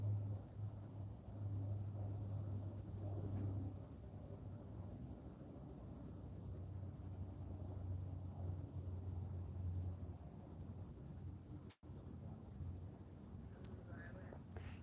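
Crickets chirp in a steady, continuous high trill that holds evenly throughout, with a faint low hum beneath and no voices.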